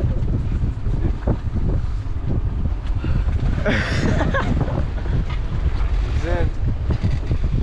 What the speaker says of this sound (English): The wind and the waves and everything, man, it's all... It's busy.